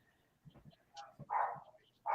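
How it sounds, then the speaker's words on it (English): Dogs barking downstairs inside a home, heard at a distance: faint scattered thumps, then a couple of louder sustained barks or whines near the end, with no talking. "No, I hear the dogs."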